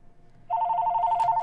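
Telephone ringing, a steady electronic trill that starts abruptly and rings continuously for about a second at moderate loudness, with no talking.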